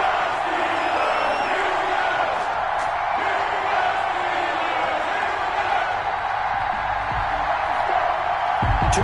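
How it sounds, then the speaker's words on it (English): A stadium crowd roars in an NFL video game on PS4, Giants against Steelers, with a dense, constant wash of cheering and whooping throughout and brief thumps near the end. "This crowd is ready as their guys get set to match up"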